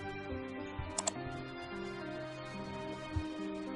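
Sparse, light keystrokes tap out a transaction password on a computer keyboard, a few soft clicks spaced irregularly over a faint steady background hum.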